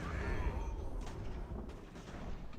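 Artillery fire on a flank in Ultimate General: American Revolution, a blizzard battle, heard as muffled, repeated booming reports blended into a dense rumbling battlefield din.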